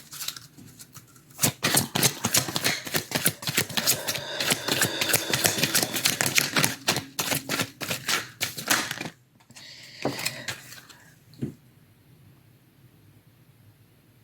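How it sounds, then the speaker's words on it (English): Tarot cards shuffled by hand for a reading: a long stretch of close, rapid riffling and slapping card noise, then it thins out to a few softer shuffles near the end, with no speech. "I'm just going to keep shuffling until the card they want comes up."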